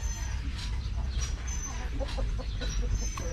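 A hen laying an egg clucks in soft, scattered bursts near a garage, over a busy, noisy background.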